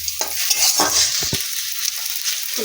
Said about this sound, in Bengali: সুন্দর করে এটা দিয়ে ভেজে নেব।